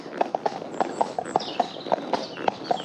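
A horse's hooves clip-clop steadily on a road during a hack on a sunny ride, an even, moderately close rhythmic clatter with faint background ambience.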